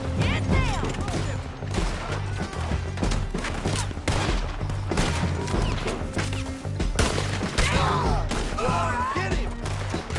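Gunfire from a battle in the video game Red Dead Redemption 2, a steady barrage of loud, dense shots and impacts layered over game music and sound effects.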